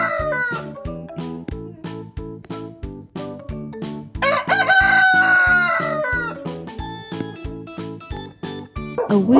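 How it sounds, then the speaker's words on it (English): A rooster crows in one long, loud cock-a-doodle-doo over a steady, rhythmic children's music beat, the call rising out of the backing and then fading. "A crow is made by a cock."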